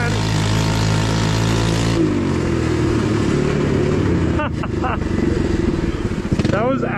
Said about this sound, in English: That was absolute full throttle.